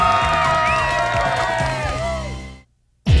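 Children cheer, whoop and shout together in a loud, sustained burst for over two seconds, then cut off abruptly into brief silence before another loud burst begins.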